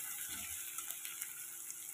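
Ginger garlic masala paste fries in a pan, a steady, even sizzle with faint stirring clicks throughout, close and alone.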